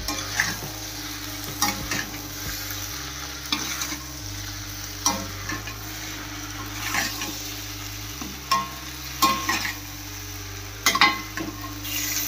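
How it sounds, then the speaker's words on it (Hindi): Okra and potatoes sizzle in a pan over a low flame while a spoon stirs them, with a steady close frying hiss and a series of intermittent scraping stirs against the pan. "अब मिलाते हैं, गैस को करते हैं लो फ्लेम पर"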